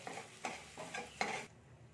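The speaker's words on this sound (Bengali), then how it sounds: "আমি এটা একটু হালকা করে সাইডে ভেজে নিচ্ছি" Ginger and spices frying in a pan as a utensil stirs them, several scraping, sizzling bursts in an uneven rhythm, close but fairly quiet, ending in near silence.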